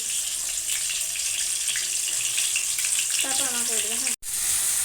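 Green chillies and chopped onion frying in mustard oil give a steady, dense sizzle, with a brief voice rising near the end.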